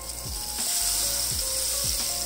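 Loud, steady sizzling as dal tempering is poured into hot oil, a crackling frying hiss throughout with a few soft clinks underneath.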